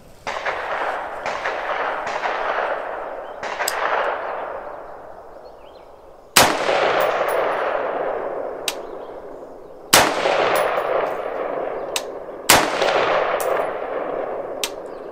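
Rifle shots from a Bear Creek Arsenal rifle fired at an outdoor range target, several loud, sharp cracks spaced a few seconds apart, each trailing into a long rolling echo across open ground.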